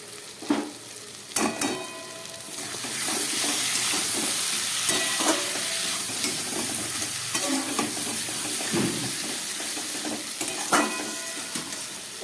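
Potatoes and spices sauté in a pan, a steady close sizzle and frying hiss throughout, broken by occasional scraping stirs of a spatula against the pan.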